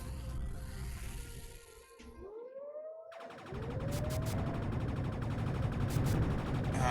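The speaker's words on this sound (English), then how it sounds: "I fucking hate those goddamn particle cannons." Particle cannons fire in the space game Endless Sky, with sweeping laser-like tones bending upward and a rapid burst of sharp sci-fi shots over a dense electronic background.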